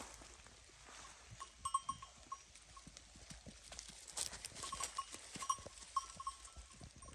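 Sheep and goats grazing in a forest on a rainy day, scattered hoof steps and rustling with faint cowbell-like tinkles, a quiet, distant flock heard against soft background hiss.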